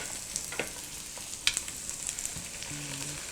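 Vegetables stir-frying for shrimp jjamppong over medium-low heat make a soft, steady sizzle with scattered crackles and spatula scrapes against the pan, gentle and close, no talking.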